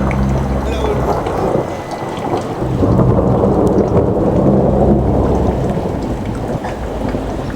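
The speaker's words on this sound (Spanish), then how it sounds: "los truenos sonando muy cerca" Nearby thunder rolls as a loud, continuous low rumble that swells midway and stays heavy throughout, layered with steady rain and no voices.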